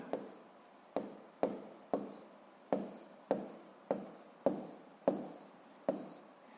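Pen strokes on paper in a physics lesson setting, about ten short scratchy bursts in a fairly regular rhythm, close and quiet.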